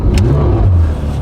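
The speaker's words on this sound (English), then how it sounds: "This is the first time I'm going to even turn on the engine of this car." A Porsche 991 GT3 flat-six fired up for the first time, a loud close burst of starter whir and a rising rev that settles into a deep, steady idle.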